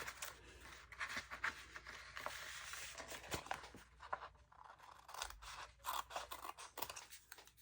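Scissors snip through paper for a page pocket with a hinged envelope, a quiet string of crisp, irregular cuts close by with soft rustling between them.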